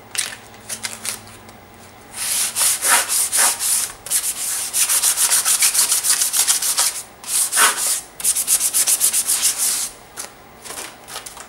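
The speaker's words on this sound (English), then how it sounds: "for the first step, I use the 150 grit, and then you're gonna wanna go over it with your 320 to smooth it out." Sandpaper in 150 and then 320 grit rubs back and forth over a stenciled piece in close, rhythmic bursts of gritty scraping, with short pauses between runs of strokes.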